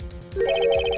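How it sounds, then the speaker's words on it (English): Electronic ringtone chiming in Phoenix Wright: Ace Attorney, a short repeating melodic phone ring with steady pulses over a low game music background. "I heard a phone ring just now. One of these newfangled ringtones."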